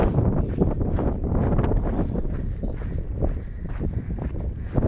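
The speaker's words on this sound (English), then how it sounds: "Just got a bit windy here." Steady wind buffeting the microphone in a continuous low roar near Forester Pass in the Sierra Nevada, with gusts swelling and easing throughout and no voices.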